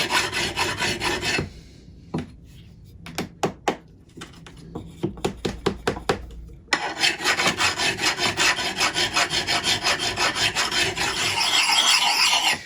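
A cheap diamond file rasps along the cheeks of a vintage axe head, working about a quarter inch back from the edge, in a steady close run of strokes, then a quieter stretch of separate short scrapes, then continuous filing again.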